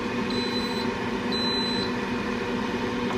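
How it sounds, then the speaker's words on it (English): An Instant Pot air fryer lid gives short high electronic beeps, a couple of brief tones over a steady background hum of the running appliance. "so another beep."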